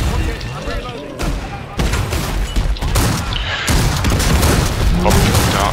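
In a Killing Floor 2 co-op match, a series of heavy booming blasts and rapid gunfire crowd close together, loud and chaotic, with voices talking over the battle.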